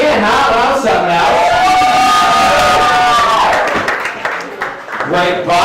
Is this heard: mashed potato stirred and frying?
no